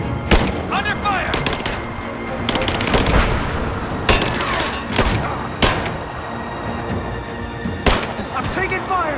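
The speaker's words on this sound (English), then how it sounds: "I'm taking fire!" Gunfire in a Rise of the Tomb Raider firefight, with rapid automatic bursts and single heavy shots cracking close by, and shouted voices breaking in between the volleys.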